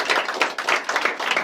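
Audience at a comedy show clapping in a quick, rhythmic unison pattern, sharp close claps repeating steadily for a brief stretch.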